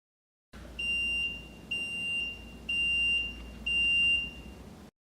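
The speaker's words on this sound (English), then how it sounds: "Once the timer reaches 0, it will generate an audible alarm." Four bursts of high electronic beeping from a countdown timer alarm on emergency-vehicle equipment, each a rapid run of shrill tones, evenly spaced with short gaps, then silence.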